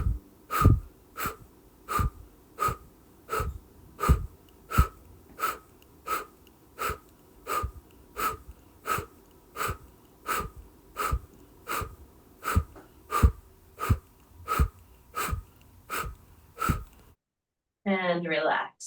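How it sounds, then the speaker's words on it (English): Deep pranayama breathing during a gentle yin session, with a long run of rhythmic sharp nasal breaths that pulse roughly once a second and are close and clear, then a brief voice at the end. "and exhale."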